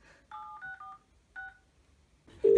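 Telephone keypad tones as a number is dialed on a phone: a few short, clean paired beeps in quick succession with brief gaps, fairly close, followed by a burst of louder noise at the end, with no talking.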